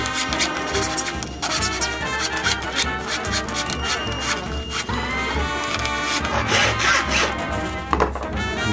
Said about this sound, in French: On va limer un petit peu pour avoir une surface un peu plus petite.